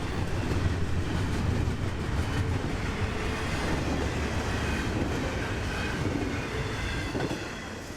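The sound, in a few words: mixed freight train passing: rock, manifest and intermodal cars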